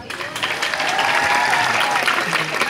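Audience at a Balinese comedy show at a temple clapping in a loud, full burst that swells and stays strong, with some voices and crowd murmur mixed underneath.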